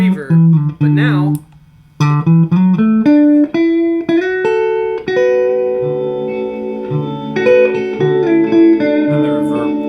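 Electric guitar notes ring out with a long reverb tail from a reverb pedal, sustained chords and melodic lines layered over each other, with a brief pause near the start.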